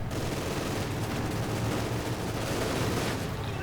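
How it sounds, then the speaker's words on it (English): Machine gun fire in the World War II strategy game Company of Heroes 2 rattles continuously in a dense, steady battle din with no pauses. "Forced retreat right past all of this machine gun fire"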